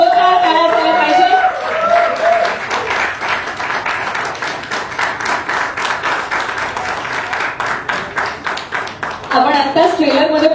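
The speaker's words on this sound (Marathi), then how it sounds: "सयाजी शिंदे सर यांच्यासाठी जोरदार टाळ्या झाल्या पाहिजे" A crowd at the Danka Hari Namacha trailer launch event applauds Sayaji Shinde with loud, sustained clapping that swells and dips for several seconds, with voices briefly heard at the start and end.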